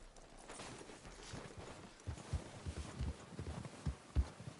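A horse's hooves clip-clop in the video game Red Dead Redemption 2, a soft and fairly distant walking rhythm of muffled thuds that grows steadier after a quiet start.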